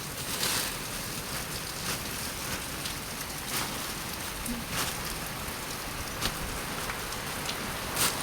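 Steady rain pattering on a surface, with scattered louder drops standing out from the constant wash, no voices.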